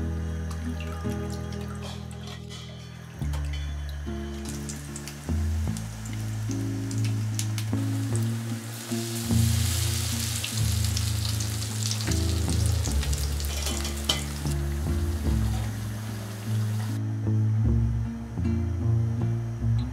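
Steady, crackling sizzle of tempura frying in hot oil, close and continuous, with background music playing underneath throughout.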